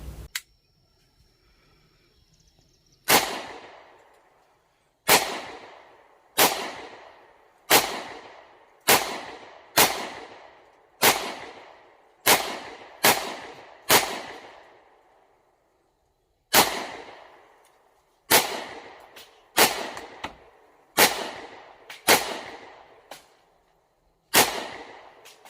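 Ruger 57 pistol fired at an outdoor range: a string of sharp, loud shots with short echoing tails, spaced about a second apart, with a pause midway before the firing resumes, no talking.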